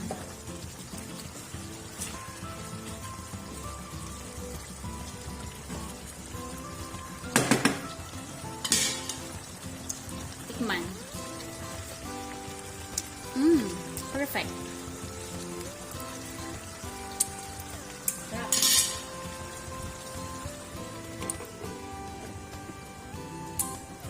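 Pork and chicken adobo, a Filipino dish, bubbles and sizzles in its pot as the fat renders out, a steady crackling simmer broken by a few louder clanks of a utensil against the pan.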